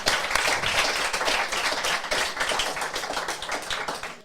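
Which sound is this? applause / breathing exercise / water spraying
applause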